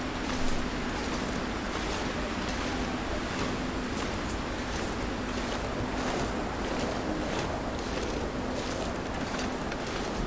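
Steady howling wind in the snowy survival game The Long Dark at night, a continuous broad rushing gust that stays loud and unbroken throughout.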